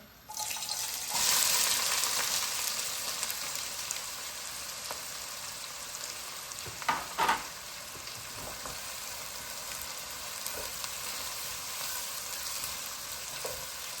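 Onions tipped into heated oil for a chicken jalfrezi, giving a steady close sizzle that flares loudly at the start and stays as a constant frying hiss, with a couple of brief stirring clatters midway.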